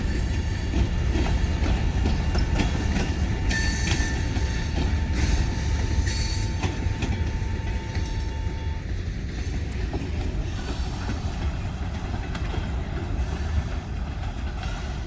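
A Kiamichi Railroad freight train led by GP40-3 and SD40-T locomotives rolls past at night in Idabel, Oklahoma, a loud steady rumble with wheel clatter and a faint squeal throughout.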